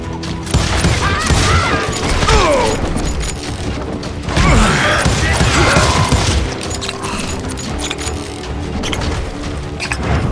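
Gunfire rings out along a town street in the Wild West shooter Call of Juarez Gunslinger, dense bursts of shots and crashing impacts with game music and effects, loud and continuous, with a voice briefly shouting over it.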